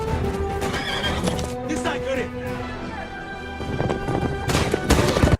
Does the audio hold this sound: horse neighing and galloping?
yes